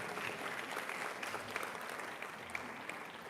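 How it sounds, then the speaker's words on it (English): Applause for the City of Dallas Poet Laureate at a Pride Month lunch celebration, a steady, fairly faint wash of many hands clapping from a crowd, sustained throughout with a few sharper claps standing out. "Let's give another round of applause for our City of Dallas Poet Laureate"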